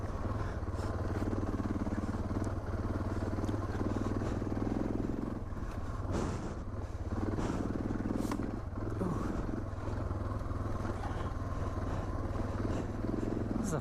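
Suzuki DR650 dual-sport motorcycle ridden through the desert, its engine droning steadily and loudly throughout with wind rush and shifting revs, no clear speech.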